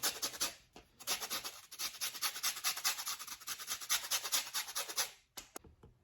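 Lemon zest is grated over a rasp in a home kitchen while baking shortbread cookies. A quiet, rapid scraping repeats in steady strokes, with brief pauses, close up and with no talk.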